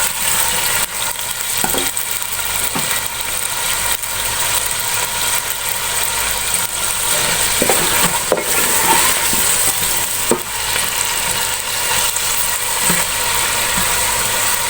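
Potatoes with half a teaspoon of salt fry on low heat for aloo palak, a loud, steady, close sizzle lasting throughout, punctuated by occasional stirring scrapes and clinks.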